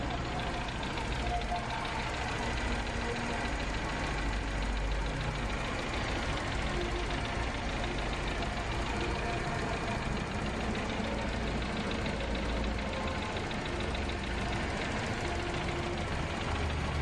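A Toyota Corolla engine idles steadily after starting, a continuous mid-pitched rumble with a faint knocking texture running close and unbroken throughout, during DIY radiator flushing.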